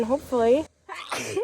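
A person sneezes once, sharply and close, outdoors in a Connecticut summer garden, right after a brief bit of speech.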